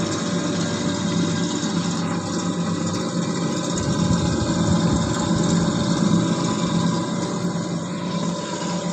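Small electric fan running steadily inside a home egg incubator, a continuous close whirring hum with a pump-like drone, alone without talk throughout.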